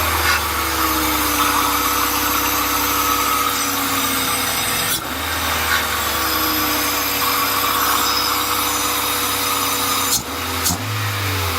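A Honda D-series engine from a Civic, fitted with a B16 throttle body, holds a steady high idle around 2000 rpm, loud and close with a constant droning hum and slight wavering pitch.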